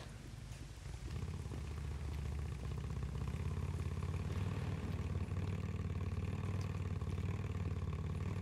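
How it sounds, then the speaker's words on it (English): Motorcycle engine in the video game Days Gone, a steady low rumbling drone that starts after a second and holds loud and continuous, with no talk over it. "that motorcycle's probably a lot louder than I am"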